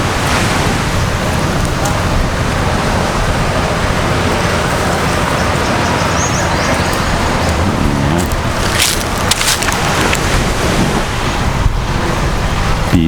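Surf breaks steadily on the beach at Fisherman Village in Mati, a loud continuous wash of waves with heavy wind rumble on the microphone throughout.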